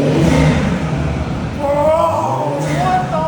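A BMW engine fitted with a cheap aftermarket intake revs loudly and steadily in a garage, its harmonics climbing and falling, with voices talking over it.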